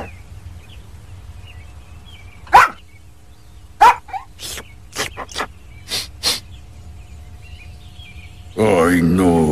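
Dog barks in a Simpsons cartoon scene, a series of short sharp yaps spaced irregularly and fairly close, over a quiet background, followed by music at the end.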